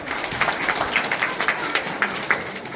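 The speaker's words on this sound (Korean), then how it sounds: "박수 부탁드립니다." Audience members at a children's art festival clap, a light, fairly sparse applause with individual claps popping out in a loose rhythm.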